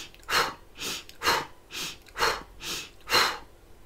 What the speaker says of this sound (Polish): Zrób jeszcze 5 takich szybkich wdechów i wydechów.